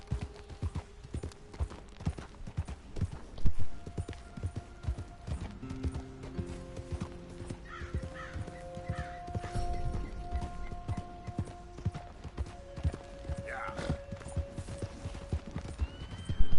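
Horse hooves clip-clopping steadily at a gallop in the western game Red Dead Redemption 2, a dense rhythmic patter running throughout with tonal music and faint ambience layered over it, no talking.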